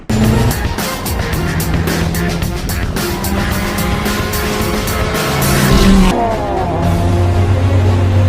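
A Mercedes future truck accelerates hard at speed, its loud engine roaring and rising in pitch with brief tire squeal, building to a peak near the end before dropping away.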